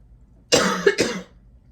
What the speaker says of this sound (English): oh my god, I'm coughing, sorry guys.